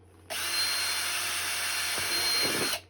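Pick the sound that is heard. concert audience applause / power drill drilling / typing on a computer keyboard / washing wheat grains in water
power drill drilling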